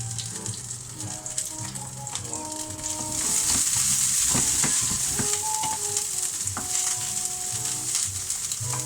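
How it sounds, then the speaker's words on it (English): Egg fried rice sizzling hard in a hot pan, a steady loud crackle and hiss that builds and stays dense throughout, with occasional scraping and stirring clatter and no talk. "Sizzling, let's get it really sizzling."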